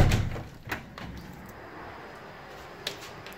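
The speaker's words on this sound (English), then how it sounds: "To get the fire escape, you have to open the window." A hotel window opens onto a fire escape, starting with a heavy scraping slide, then a few sharp knocks and clicks from the frame, close by and with no talk.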